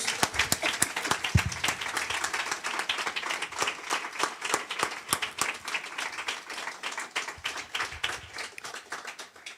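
Church congregation applauding, sustained many-handed clapping with a rhythmic, pulsing quality, moderately distant and without speech.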